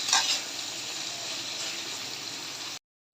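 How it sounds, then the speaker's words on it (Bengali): Onion and tomato frying in hot oil with salt, a steady bright sizzle with a louder burst at the start, continuous and close, then cut off briefly near the end. "পেঁয়াজ আর টমেটোটাকে লবণ আর পেঁয়াজের সাথে দিয়ে ভালো করে ভাজবো।"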